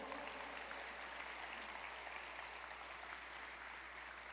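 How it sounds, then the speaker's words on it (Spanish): A church congregation applauds during a Sunday sermon with dense, steady clapping from many hands that fills the room evenly throughout, and no one speaks over it. "Alguien dele un aplauso a Jesús."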